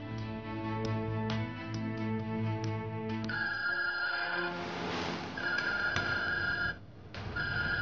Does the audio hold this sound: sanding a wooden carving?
no